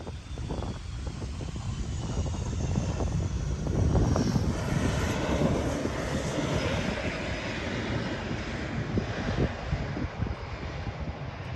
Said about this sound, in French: Si c'est pas un avion, c'est au moins un hélicoptère.